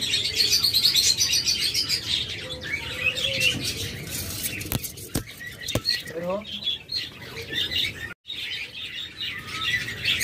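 Green opaline lovebirds chirp and tweet in a cage, with a bright, busy chatter of bird calls running throughout, close and fairly loud, along with some clicks and shuffling.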